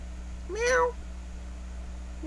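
A cat gives one clear, rising-then-falling meow close by, and a second meow begins just as the sound ends, over a faint steady background hum.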